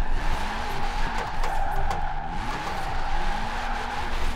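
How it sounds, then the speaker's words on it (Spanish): A 1968 Abarth 595 tuned to 667 hp and 519 kg drifts in Forza Horizon 4, its tires squealing in long wavering skids over a constant high engine roar. "A ver si puedo hacer esto a drift."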